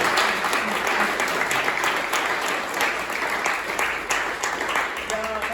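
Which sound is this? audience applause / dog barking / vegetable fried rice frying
audience applause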